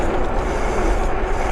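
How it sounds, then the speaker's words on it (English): A front disc brake rubs on a CMaceWheel V20 AWD dual-motor ebike while it is ridden, making a constant close grinding hiss with a faint rhythmic scrape mixed into the rolling and wind noise. "That's why I'm hearing so much brake rub in the front."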